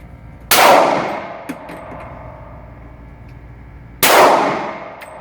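Two sharp gunshots at an outdoor shooting range, each a loud crack with a ringing decay, about three and a half seconds apart, with a faint clink between them.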